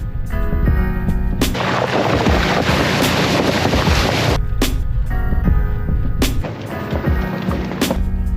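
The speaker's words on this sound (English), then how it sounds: "it's actually quite a warm wind" Warm wind blowing by a river near a bridge, buffeting the microphone in loud, rough, continuous gusts with several sharp thumps and brief lulls.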